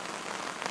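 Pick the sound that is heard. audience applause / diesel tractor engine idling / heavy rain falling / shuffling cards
heavy rain falling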